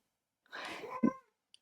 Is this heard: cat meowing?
yes